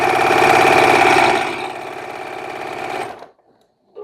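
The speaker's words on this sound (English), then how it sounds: "let's just get these 3 little things stitched together" Sewing machine stitching small quilt pieces together, a steady fast mechanical whir with rapid needle chatter that eases slightly, then stops abruptly near the end, leaving brief silence.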